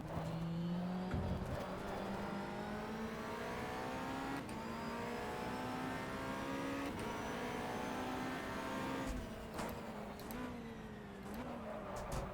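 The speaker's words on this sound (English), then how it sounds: "Downshift into first and the rear locks. Because you're at a too high a rev." A Ferrari 360 Modena race car at Donington Park roars continuously, engine pitch climbing and dropping through gear changes, with brief downshift blips, rear wheels locking and tire noise near the end.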